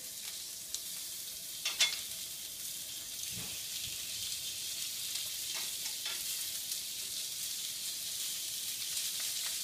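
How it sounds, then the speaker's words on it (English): Potatoes fry golden brown in a pan with a soft steady sizzle, joined by a few brief scraping and clinking sounds as they are stirred and flipped. "I want that golden brown, but not overdo them. I'm going to flip my potatoes till it's done."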